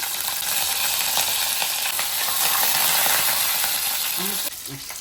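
Fenugreek, dried chillies and curry leaves sizzle steadily in hot oil for a Kerala buttermilk curry, a close, continuous crackling hiss that drops off abruptly near the end.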